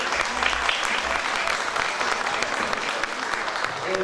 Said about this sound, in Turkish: sertifikasını almak üzere Lal Nehir Erdem'i alkışlıyoruz